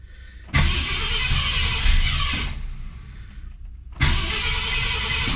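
A 1966 Ford Galaxie 500 convertible that has sat unstarted cranks and catches twice: a loud burst of engine noise, a brief drop as it stumbles, then a second start that settles into a steady running idle, close by with no talk.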